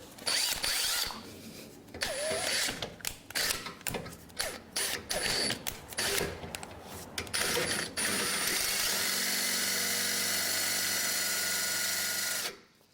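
Power drill boring holes in the lower bumper of a Ford F150 Raptor, with choppy bursts of whirring and ratcheting in stops and starts, then a long steady drilling run near the end.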